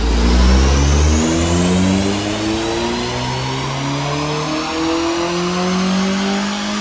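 Honda Civic FN2 with a Piper manifold, sports cat and race ECU map revs on a dyno during a power run, a loud sustained engine note sweeping steadily upward in pitch for several seconds with no talk.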